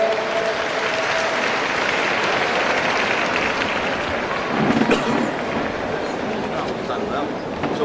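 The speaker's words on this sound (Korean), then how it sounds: "앙드레 김 선생님 큰 박수로 무대로 모셔보겠습니다" An audience at an Asia Model Festival awards ceremony gives loud, sustained applause as a designer is welcomed onto the stage, a dense continuous clatter of many hands swelling slightly near the end.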